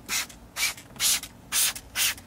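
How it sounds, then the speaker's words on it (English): A trigger spray bottle mists cleaner onto a stained car headliner in five quick hissing bursts, evenly spaced with short pauses between them. The sound is close up and heard alone. "Let me spray again."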